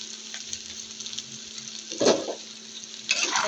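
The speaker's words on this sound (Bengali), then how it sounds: "করলাগুলো দিয়ে ভালোভাবে নাড়াচাড়া করে নেব।" Bitter gourd slices and boiled potatoes frying in a pan, a low steady sizzle broken by two louder bursts of stirring and scraping, with no one speaking.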